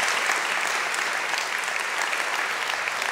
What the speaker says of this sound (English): we have an applause